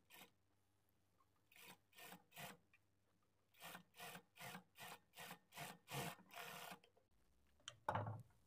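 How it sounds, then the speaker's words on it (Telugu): A sewing machine runs over a blouse sleeve seam in short repeated bursts of stitching, each a second or less, close and fairly quiet, with brief pauses between runs and no talking. "ఇప్పుడు ఇదే స్టిచ్ మీద ఇంకొక స్టిచ్ వేసుకోవాలి"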